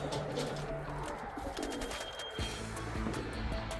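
Racing pigeons coo softly at the loft after a 247 km Cape Campbell race, a few low murmuring coos over faint background noise, with no talking.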